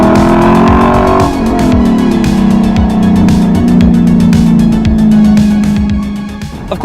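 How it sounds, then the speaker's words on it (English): A 2023 Lexus LC500 sports car, close and loud, with a rising, sustained engine rev and tire squeal that holds steady for several seconds before easing off at the end. "This is the Lexus LC500, and it's the best car in the world."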